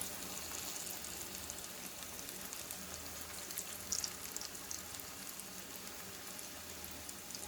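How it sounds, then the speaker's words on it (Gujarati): Potato pieces frying in hot oil for a Kashmiri dum aloo curry, a dense, steady close sizzle and crackle like rain that continues throughout with no voices. "તેલ સરસ એવું ગરમ થઈ ગયું છે. એમાં આપણે બટેકાને એડ કરી"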